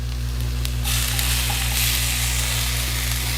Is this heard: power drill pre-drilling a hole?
no